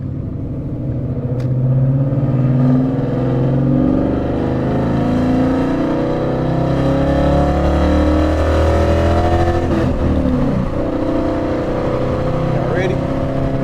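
A Ford Mustang GT fitted with loud headers accelerates hard on the road, its engine rumbling and rising continuously at close range with no talk over it.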